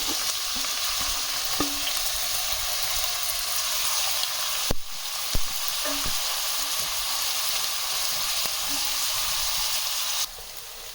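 Chopped onions fry in a quarter cup of oil in a kadhai over a slow flame, with a loud continuous sizzle and occasional sharp clicks of a spatula against the pan, close up and without speech.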